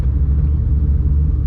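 A Ford SVT Cobra with a new exhaust and turbo blowoff valve on the road, heard from inside as a loud, steady low engine and exhaust rumble with no talk.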